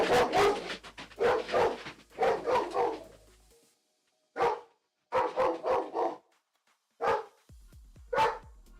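A dog barks out behind a house in a series of loud, close bursts with short pauses between them, a few yips and whimpers mixed in, and no talking.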